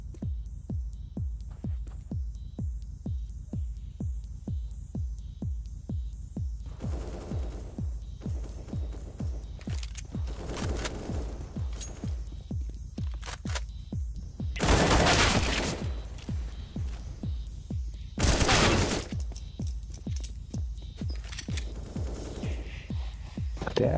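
Video game gunfire heard as a steady stream of evenly spaced rapid shots over a low throbbing hum, with two louder noisy bursts standing out near the end.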